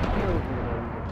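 Gunfire in the video game Destiny, a dense, loud, continuous burst of blasts filling the whole moment, with a voice faintly mixed underneath.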